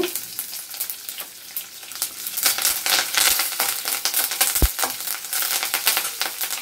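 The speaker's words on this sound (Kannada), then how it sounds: "ಉದ್ದಿನ ಬೇಳೆ ಹಾಕಿದೆ, ಸಾಸಿವೆ ಹಾಕಿದೆ, ಜೀರಿಗೆ ಹಾಕಿದೆ, ಸ್ವಲ್ಪ ಜಾಸ್ತಿನೇ ಜೀರಿಗೆ ಹಾಕಿ, ಕರಿಬೇವಿನ ಸೊಪ್ಪು ಹಾಕಿದೆ" Urad dal, mustard seeds, cumin and curry leaves sizzle and crackle in hot oil, a dense frying hiss with sharp pops and spatters that grows louder midway.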